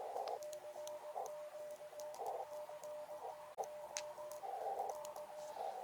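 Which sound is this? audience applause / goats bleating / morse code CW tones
morse code CW tones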